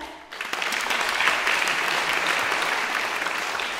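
Sustained audience applause fills a charity concert hall in Taipei, a dense, even wash of many hands clapping that starts abruptly and stays strong and steady to the end, with no voices.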